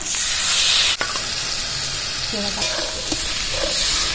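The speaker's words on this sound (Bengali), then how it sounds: "মশলাটা ভালোভাবে কষিয়ে নেবো" Spice paste with turmeric and salt sautéing in a pan for a taro and potato curry, a loud steady sizzle with scraping stir strokes and a sharp knock near the start; no talk.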